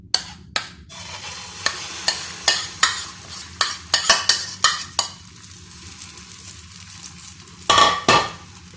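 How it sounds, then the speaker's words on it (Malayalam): Oats omelette mix goes into hot sunflower oil in a pan, a low sizzle running beneath a series of sharp utensil taps and scrapes, ending with a louder burst of frying. "എണ്ണ ചൂടായിട്ട് വരുമ്പോൾ നമുക്ക് ഇതിനകത്തോട്ട് ഓംലേറ്റിൻ്റെ മിക്സ് ഒഴിച്ച് കൊടുക്കാം"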